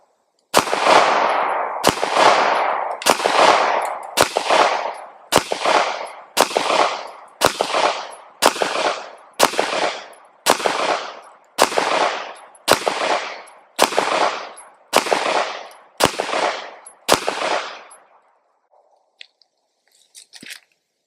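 Bear Creek Arsenal BC-101 rifle emptying a full magazine at about 5 yards, a steady string of roughly sixteen loud, sharp shots at an even pace, each with a short crack and decay, then silence.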